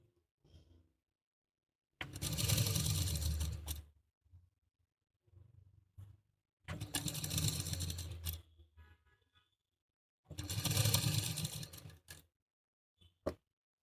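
A sewing machine stitches a skirt for a one-year-old girl in three loud, close bursts of rapid whirring, each a few seconds long, separated by quiet pauses with small handling noises.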